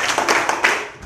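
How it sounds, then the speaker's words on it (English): A class clapping together in a quick run of sharp, close claps, loud and with no voices. "3 claps, 3 stamps, and say congratulations."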